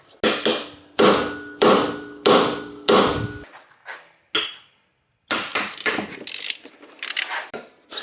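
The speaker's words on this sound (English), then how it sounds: "We're gonna get a good old smack and hopefully that'll just work things loose and then crack all three of these off." A hammer strikes a socket on a bolt of a failed 1.8T engine in a Toyota MR2, with about nine sharp metallic blows in loose succession and some ratcheting clicks between them, close and loud.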